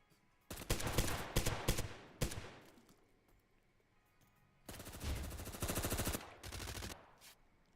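Gunfire in the video game Zero Hour during a competitive match: rapid automatic bursts and clusters of shots in two loud volleys separated by a quiet gap.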